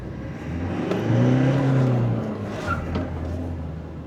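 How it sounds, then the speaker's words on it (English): A Toyota Innova Crysta 2.4 diesel launches hard, its engine note rising and falling through upshifts as the tyres spin, the drone close and steady. "Wheel spin and upshifts."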